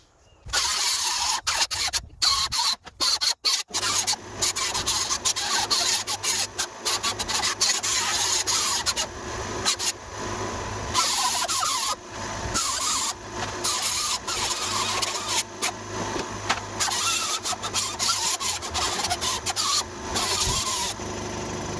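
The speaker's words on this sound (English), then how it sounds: "there's a very distinct smell when you grind old metal" Loud, continuous grinding on rusty old sheet metal of a 1970 Chevy Nova during rust repair, a harsh, steady abrasive roar with brief stops and restarts near the start, then running almost unbroken close by.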